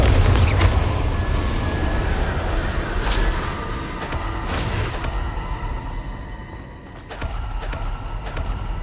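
A Confringo blasting curse detonates in Hogwarts Legacy, a loud rumbling blast within dense, continuous game noise and crackling effects, with a brief dip near the end before the roar resumes.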